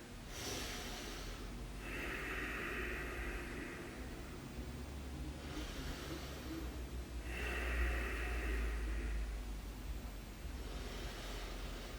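Two slow, deep breaths taken during a strength-focused yoga session, each a soft, airy rush of inhale and exhale spaced several seconds apart over a steady low background hiss.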